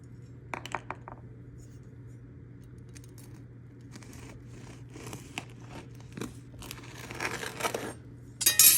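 A knife saws through a crusty cinnamon chocolate chip pumpkin sourdough loaf, giving a run of crisp crackling crunches and scratchy strokes that grow busier and louder toward the end, with a quiet steady hum underneath.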